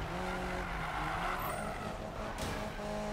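A Nissan Silvia drifts in the racing game Need for Speed 2015, with a steady, loud engine roar under a long, continuous tire squeal and skid that swells briefly near the middle.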